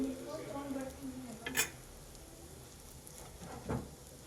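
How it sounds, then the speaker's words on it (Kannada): Burger buns toasting in a hot pan for a chicken cheese burger, a quiet close sizzle with brief crackly bursts and light scraping, no talking. "ನೋಡಿ ಈಗ ನಾನಿಲ್ಲಿ ಬರ್ಗರ್ ಬನ್ನ ತೊಗೊಂಡು ಟಾಸ್ ಮಾಡ್ಕೊಂಡಿದ್ದೀನಿ"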